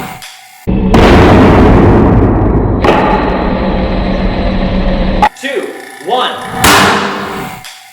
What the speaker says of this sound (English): And that is the air cannon.